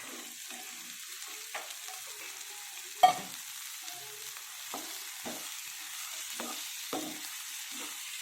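Boiled cowpeas with soft mashed tomato being stirred in a pan, a faint low sizzle broken by scattered soft scrapes and one sharper knock of the spoon, quiet and close with no talking.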